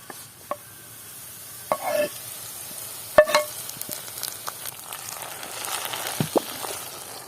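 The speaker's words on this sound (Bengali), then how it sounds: "পেঁয়াজটা ভাজা হয়ে গেছে, এখন বাগার দেব।" Chopped onions frying in soybean oil for a tempering, a quiet steady sizzle with occasional sharp clinks and stirring scrapes from a utensil, no talk.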